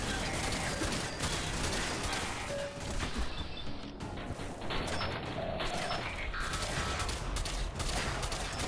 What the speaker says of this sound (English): Turret bot.